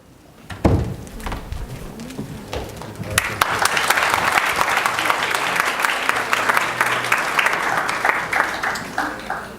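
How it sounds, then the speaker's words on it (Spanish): An audience at a conference on international consumer protection bursts into loud, sustained applause after a few early claps. The clapping swells into a steady wash that lasts several seconds and fades slowly. "Vamos a despedir con un fuerte aplauso a Bernardo"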